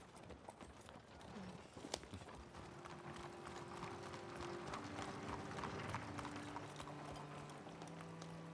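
Horse hooves clip-clopping at a steady trotting rhythm on a road, close and continuous, with a low rumble of movement and a faint hum underneath.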